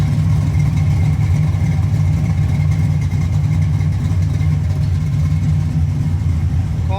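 A 1965 Mustang Fastback with a 347 engine runs steadily at a loud, continuous idle, with a faint popping texture riding on the low rumble. No voices are heard.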